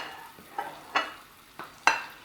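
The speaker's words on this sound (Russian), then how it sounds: "Пока оно жарится" Lamb sizzles softly in an uncoated pan while a utensil scrapes and stirs it in a few separate strokes; no one talks.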